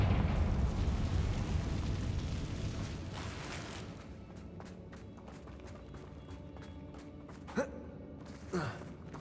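A Confringo fire spell blast in the Hogwarts Legacy video game, a loud rumbling burst that fades into a steady hum with crackling clicks and two short flares near the end.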